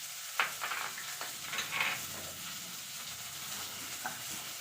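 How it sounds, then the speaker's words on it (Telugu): Thin slices of raw banana frying in a pan, a steady crackling sizzle with a few sharper pops near the start, close and continuous with no talking. "ఇప్పుడు వేగుతూ ఉంది కదా"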